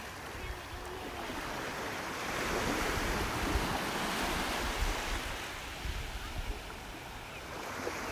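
Ocean waves washing onto the beach at North Naples, Florida, on Thanksgiving Day, a steady broad surf roar that swells slightly midway, with some wind rumbling on the microphone.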